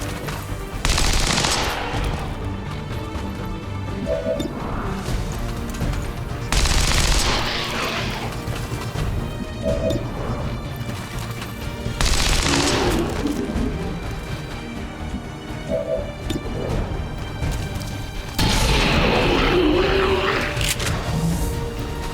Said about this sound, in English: We should be able to just shoot any of these Lost, because it'll instantly kill anything we hit.